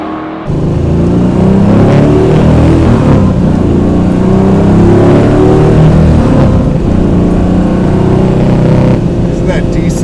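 Plymouth Cuda engine on a drive around LA, a loud, steady, deep rumble that swells with revving and continues through the whole clip.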